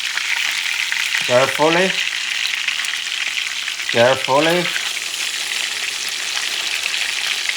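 Catfish fries in a pan at medium-high heat after being flipped, giving a steady, close sizzle throughout. A voice speaks twice, briefly, over it.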